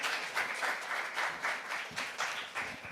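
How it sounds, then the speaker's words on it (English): Modest applause from a plenary session audience, fairly quiet, with uneven clapping that rises and dips in small rhythmic surges over a few seconds. "Can you give a round of applause,"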